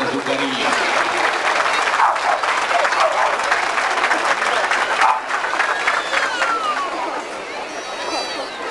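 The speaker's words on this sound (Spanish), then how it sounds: "el fortísimo aplauso del público presente que le muestra su cariño" A crowd at a school sports day applauds steadily for several seconds, a dense wash of clapping with some voices mixed in, fading slightly toward the end.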